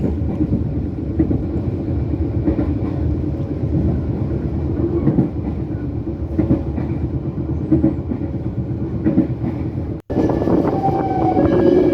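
KA Gumarang passenger train runs through Waleri station in Indonesia, a loud, steady rumble of wheels on rails with faint rhythmic clatter, heard from on board; near the end the sound briefly drops out and shifts brighter.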